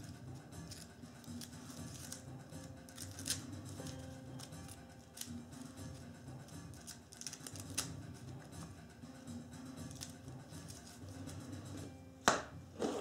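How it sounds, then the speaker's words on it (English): A deck of cards being shuffled during a card game, heard as a close, continuous patter of soft flicking and riffling with a sharper snap near the end. "Let's shuffle his deck."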